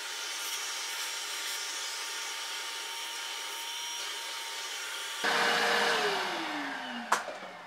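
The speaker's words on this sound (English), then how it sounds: "we're going to run the vacuum again real quick because I noticed a lot of metal shavings up here" A vacuum cleaner picking up metal shavings from guitar fret polishing gives a loud, steady motor whine with a hissing airflow throughout, then the pitch shifts and slowly drops as it winds down, ending with a sharp knock.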